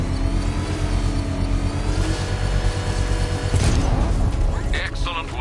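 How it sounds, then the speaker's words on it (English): A controlled bomb explosion set off with a power winch in a Batman video game, a loud mechanical grinding and rumbling build that bursts into a heavy blast with crackling debris near the end. "I can use the power winch to trigger a controlled explosion."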